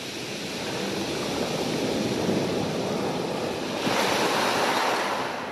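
Gentle sea waves break steadily on rocks along a fishing shore, a continuous close wash of surf mixed with wind noise on the microphone that swells slightly near the end.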